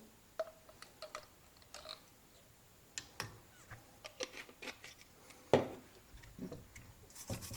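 Close, intermittent rubbing and rasping strokes as an oxidized, dirty LCD TV part is scrubbed clean by hand, brief scratchy bursts separated by short pauses, with no talking.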